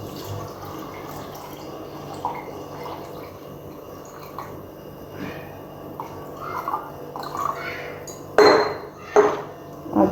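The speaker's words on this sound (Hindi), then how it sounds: "2 गिलास पानी डालेंगे।" Two glasses of water poured into a raw mango sharbat mix of sugar and green food colouring, a soft trickling and splashing that ends in a couple of louder clinks and splashes near the close.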